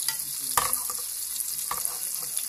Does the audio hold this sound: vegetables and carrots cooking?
yes